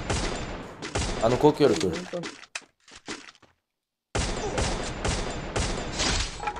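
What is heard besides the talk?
gunfire in the video game Free Fire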